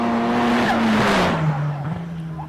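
A race car on a hill climb run at the Simola Hillclimb passes with a loud, steady engine note that drops in pitch as it goes by, with a faint tyre hiss.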